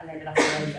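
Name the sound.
sneeze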